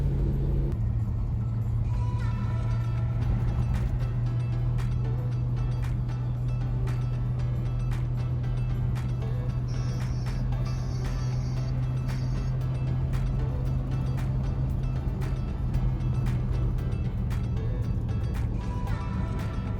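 A Subaru Sambar K-truck engine drones at a steady pace throughout, a close, constant low rumble with a sustained hum and no pauses.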